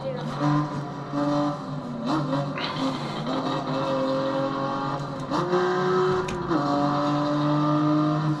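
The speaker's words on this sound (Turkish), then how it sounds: "Arabanın sesi güzel ama değil mi?" A BMW M4 engine in the racing game Assetto Corsa whines and revs through gear changes while drifting, the pitch climbing and dropping repeatedly, with a faint tire squeal and a voice talking now and then.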